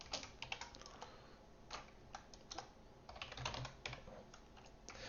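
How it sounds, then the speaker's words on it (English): Quiet, irregular keystrokes on a computer keyboard while code is typed for a Flutter file I/O lesson: rapid clusters of clicks broken by short pauses, close and soft, with no voices. "while I'm typing this out"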